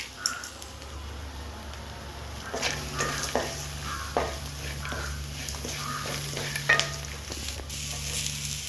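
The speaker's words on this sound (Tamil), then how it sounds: "நல்லா வதக்கணும்." Drumstick leaves sautéing with tamarind in a pan, a low sizzle broken by scattered spatula taps and stirring scrapes, close and moderately loud, with no one talking.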